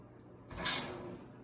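A brief hissing rush of water under pressure swells and fades in the plumbing of a Whirlpool Aquios home water filter and softener system as it pressurizes, with faint mechanical clicks around it.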